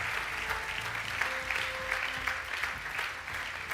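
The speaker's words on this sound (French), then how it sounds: "Est-ce qu'on peut acclamer le Seigneur?" A church congregation claps and cheers in praise of the Lord, a dense, steady wash of applause filling the room throughout, with faint tonal voices or cries rising briefly within the crowd noise.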